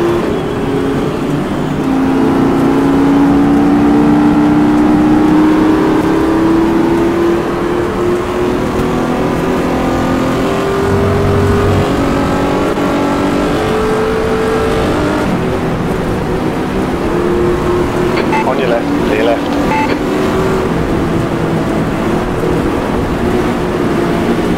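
Ferrari 250 LM race car engine in the racing game GTR2, a sustained mechanical drone rising and falling through gear changes for the whole stretch, loud and steady with faint higher engine whine.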